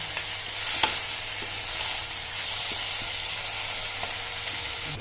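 Ridge gourd peels frying in hot oil give a steady, close sizzle and hiss with occasional soft stirring clicks, continuous and fairly quiet with no talking.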